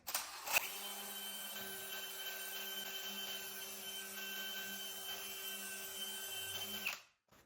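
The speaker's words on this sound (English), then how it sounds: "We can just basically drill through this, and it just eats away, it wears away" A power drill whines steadily for several seconds after a sharp start, grinding through a heater box gear at a constant pitch before cutting off abruptly.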